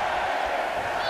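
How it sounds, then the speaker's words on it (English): A large crowd in the video game WWE 2K22 roars and cheers during a women's Royal Rumble match in a steady, sustained wash of noise, continuous throughout the short moment. "Listen to this crowd, count the next one in."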